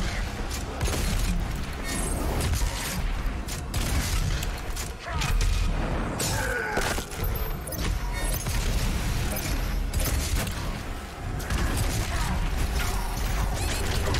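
Shotgun blasts in Doom Eternal amid frantic combat: heavy booming shots with clanking reload mechanics, crashes and impacts layered densely and loudly throughout.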